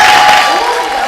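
A school concert audience claps steadily to welcome a young performer to the stage, dense applause with some cheering throughout, fairly loud and close, easing slightly toward the end.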